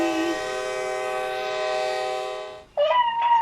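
A horn-like train sound effect with a sustained, richly layered tone that holds steady for over two seconds before breaking off into short, higher-pitched hoots, loud and clear with no talking.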